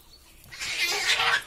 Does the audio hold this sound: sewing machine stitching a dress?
no